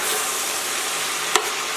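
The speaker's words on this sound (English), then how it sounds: "Saute all these for about 5 minutes" Pepper and garlic sizzle steadily in a hot pan for Liberian gravy, a dense continuous frying hiss with one brief utensil tap partway through.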